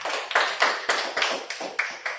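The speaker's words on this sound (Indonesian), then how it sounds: "tepuk tangan untuk dia." Small classroom group clapping in a loose, uneven rhythm of about eight distinct bursts over two seconds, close and fairly quiet, with no voices over it.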